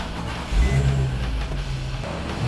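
A 2004 Nissan 350Z sports touring car cranks and catches, its engine rising to a loud low idle rumble close by, with no talking.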